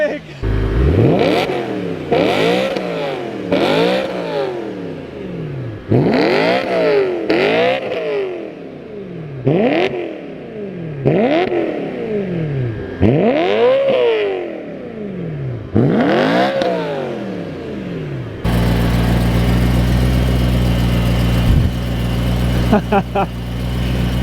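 Widebody BMW E93 M3 engine revved repeatedly in loud, rising-and-falling bursts about every two seconds, ending in a sustained steady drone at high revs; close and dominant.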